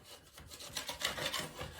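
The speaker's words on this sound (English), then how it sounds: "Remove any chunks or any little ridges in the compound." Dried drywall compound is given a light hand sanding, a soft, fairly quiet rasping scrape in a few uneven strokes with no voice over it.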